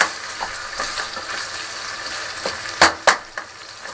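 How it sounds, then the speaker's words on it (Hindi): Garlic ginger paste sizzling steadily in a pan over a medium flame for chicken masala, with a few louder crackling bursts and stirring scrapes near the end. "थोड़ा सा इसे भी मैं फ्राई कर लूँगी।"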